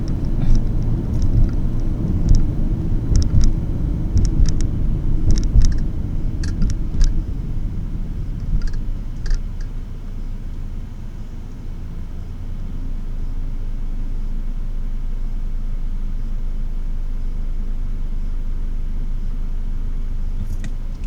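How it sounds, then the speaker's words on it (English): A 2013 Ford Escape SE with a 2.0L engine accelerates hard, heard from inside as a loud, rising engine and road rumble over several seconds, then settling into a steady cruising drone. "Full acceleration pass here."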